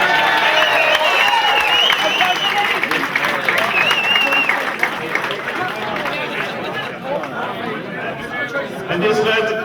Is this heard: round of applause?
yes